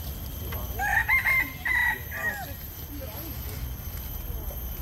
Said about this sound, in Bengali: এখানে আছে মুরগি।